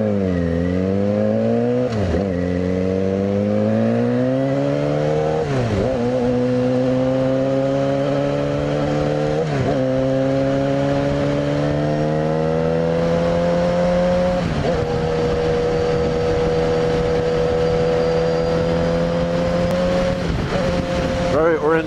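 A Yamaha FZ6R motorcycle on a commute pulls away gently and climbs through its gears, the engine tone rising steadily between each shift with a dip at every gear change, loud and continuous with wind noise underneath.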